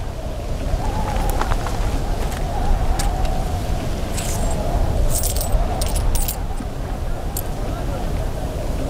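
Metal coins jingle and clink in a handful, bright metallic shakes over a steady low rumble of background noise, in a scene of counting out eighteen dirham coins as a price.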